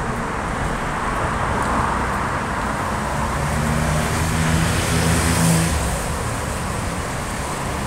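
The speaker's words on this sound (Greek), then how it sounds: "Περνάνε και τα λεωφορεία από εδώ." City street traffic with passing buses in central Athens, a steady close roar of engines and tyres that swells as a heavy vehicle goes by midway, with no talk.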